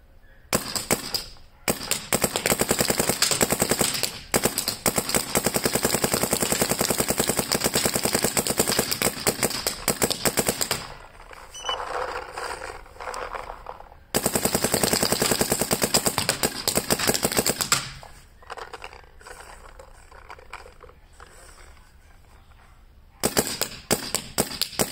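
Rapid bursts of gunfire from a gun at a range, loud and close, coming in long sustained strings broken by brief pauses, with no talk over the shots.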